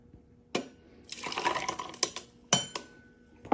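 Ice cubes are poured into a tumbler, giving a few sharp clinks followed by a loose rattling clatter and scattered knocks, close and fairly quiet.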